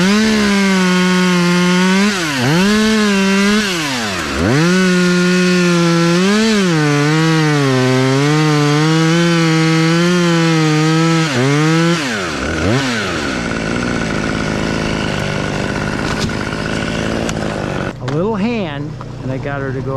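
A chainsaw started with its chain brake off runs loud and close, revving up and down in repeated swells before dropping off, followed by rougher idling and clatter.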